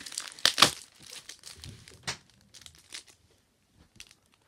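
Plastic wrapper of a Match Attax football trading card multipack being torn and crinkled open, a burst of sharp crackling rips at first, then sparser rustles and a final crinkle.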